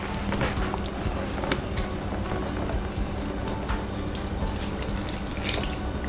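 Egg-based liquid mixture poured over a baked cake to soak it, a steady wet trickling and splashing running continuously and fairly loud for several seconds.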